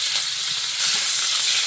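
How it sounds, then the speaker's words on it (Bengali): Chopped garlic and chilli hit hot oil in a home kitchen, giving a loud, steady, close sizzle that swells a notch partway through and keeps hissing without pause. "তেলের মধ্যে একটু রসুন কুচি আর লঙ্কা কুচি দেবো।"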